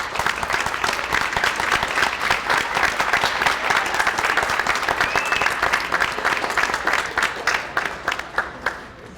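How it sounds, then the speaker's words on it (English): An audience at a school award event applauds students with loud, sustained clapping that fills the whole stretch before tapering off near the end. "they deserve a quick round of applause"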